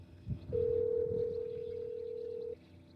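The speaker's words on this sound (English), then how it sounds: "All right, it's ringing." A phone call rings out through a car's FM transmitter: a single steady electronic ringback tone sounds clearly for about two seconds inside the car.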